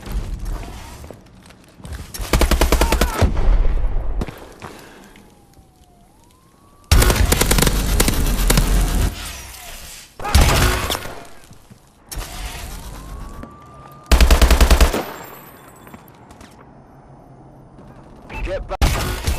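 Laser gun in Call of Duty: Advanced Warfare fires in several loud sustained bursts, each lasting a second or two, separated by quieter gaps filled with game sounds and a rising whine.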